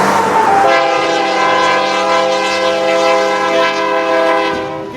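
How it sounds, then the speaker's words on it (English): Freight stack train passing close by, a loud sustained horn blast with strong harmonic tones that holds for several seconds over rumbling rail noise, then fades slightly at the end. "getting passed from the back by a stack train."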